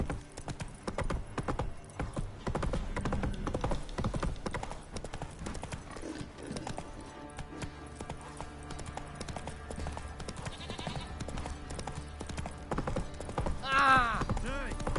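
Roach, a horse in The Witcher 3, gallops with a steady, fast clip-clop of hooves throughout, a brief whinny rising near the end and a voice speaking faintly over the hoofbeats.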